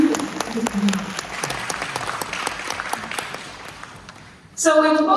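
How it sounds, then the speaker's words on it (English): An audience at a legal aid forum and law firm opening celebration at the Harvard Club in New York breaks into loud, sustained applause, swelling near the end while speech carries over it. "to give her a big applause"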